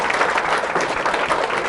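An audience at a Saturday lecture in a theatre fills the hall with dense, continuous applause. The sound is steady and fairly loud from start to finish, with no break.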